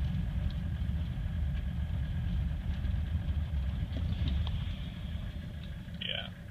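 A 1985 Mercedes 300D turbo diesel running steadily under way, a low continuous engine drone filling the cabin with no pauses, fairly loud and even throughout.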